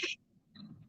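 A single short, sharp sneeze bursts out at the start, followed by faint low murmuring.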